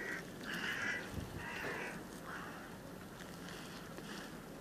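A crow caws outdoors in strong wind in Samara, near pigeons being flown, with several harsh, fairly close calls over the first two seconds before fainter caws continue over a steady wind rush.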